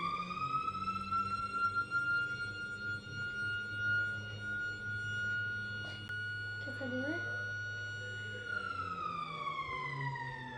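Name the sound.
Ramadan sehri alarm siren sounding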